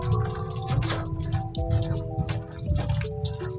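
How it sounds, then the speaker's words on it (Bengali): Cut eggplant pieces are rinsed in water, with soft drips, splashes and gurgles repeating close by at a gentle, irregular pace. "বেগুনগুলো আগে আমি ধুয়ে নিয়েছিলাম, এখন আবার কাটার পর একবার ধুয়ে নিচ্ছি।"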